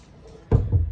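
A newly installed cabinet door swings shut with one solid, close, low thud, followed by a brief dull knock as it settles.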